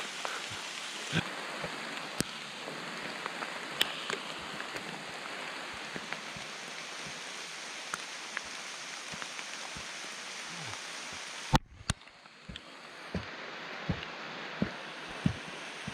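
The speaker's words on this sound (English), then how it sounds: "But maybe the rain will die down on us, eh?" Steady rain pattering on a lake during a fall lake trout fishing trip in Algonquin, a continuous close patter with scattered louder drips and knocks, heard alone without voices.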